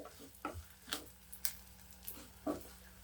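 Horse gram and small shallots being dry-roasted in a pan, with soft scraping stirs and light sizzling in scattered bursts, quiet and close.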